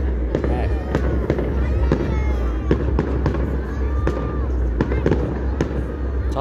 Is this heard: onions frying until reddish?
no